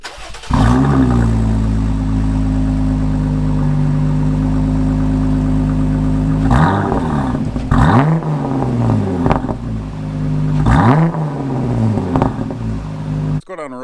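A Jeep Wrangler JL engine with a Flowmaster cat-back exhaust idles with a deep steady drone, then is revved in a few short blips, heard close by with a voice talking briefly.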